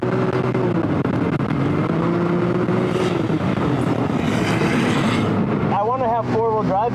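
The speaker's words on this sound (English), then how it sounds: "So I'm in the Funco car that has the SS360s on." A Funco off-road sand car on SS360 paddle flotation tires runs with a steady engine drone and rushing noise, shifting pitch as it moves, while people talk over it inside the car.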